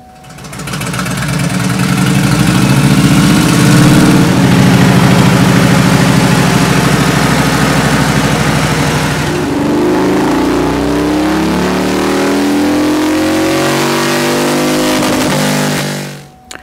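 Motorcycle engine running on a Dynojet dyno, loud and close, a steady high-revving drone that eases to a lower idle partway through, then cuts off abruptly at the end.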